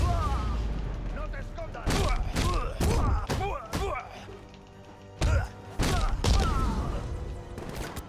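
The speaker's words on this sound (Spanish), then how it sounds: "Un disparo sabe a poco, lo reventaré." Gunfire in the PC game Batman Arkham Knight comes as a string of loud, punchy shots, some in quick pairs and others spaced apart, over a busy game soundscape.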